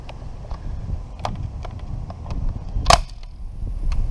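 A toy rocket fishing rod fires off a cast with one sharp, loud pop just before the three-second mark, standing out over low rustling and scattered small clicks.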